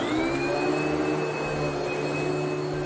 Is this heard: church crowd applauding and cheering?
no